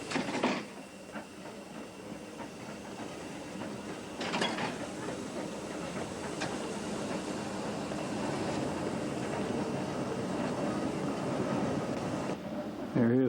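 A British steam locomotive runs along the railway to couple onto its train, with a steady rolling rumble and rail clatter that holds through most of the stretch, plus a few sharp clanks and a fading tail at the end.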